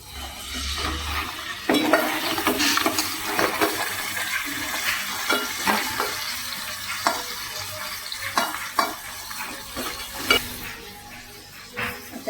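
Mud crab pieces frying in hot oil with browned garlic, a continuous crackling sizzle with occasional stirring scrapes and bursts of spattering.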